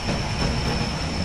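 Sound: train moving in video game

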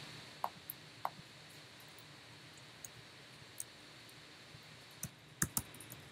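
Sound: typing login on a computer keyboard

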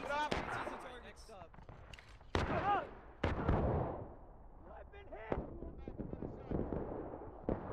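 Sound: gunfire in the video game War of Rights

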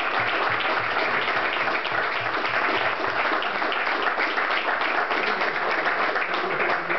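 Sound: applause

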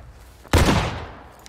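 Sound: musket volley fire in War of Rights video game

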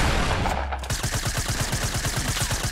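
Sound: gunfire from the video game Fortnite

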